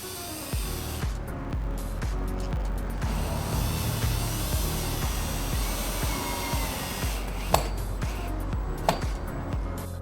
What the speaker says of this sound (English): I'm going to secure this window with 3-inch screws, driving a screw through each of these shims so shim does not move over time